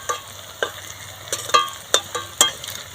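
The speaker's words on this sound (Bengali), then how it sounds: "দেখুন কি সুন্দরভাবে ভাজা হয়ে যাচ্ছে আর একটু ফুলে গেছে" Carrot goja sweets frying in hot oil, a soft close bubbling sizzle punctuated by several sharp clinks and scrapes of a utensil against the pan at irregular intervals, with no talk.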